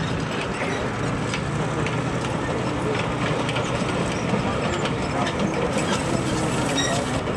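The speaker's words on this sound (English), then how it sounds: "The speed of this tank is about 15 miles an hour." A Matilda II tank drives past at a demonstration, a steady loud rumbling engine and track clatter filling the scene with a broad continuous roar, with faint voices in the background.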